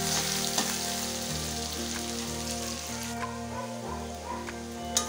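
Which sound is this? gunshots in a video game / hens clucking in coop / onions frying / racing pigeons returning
onions frying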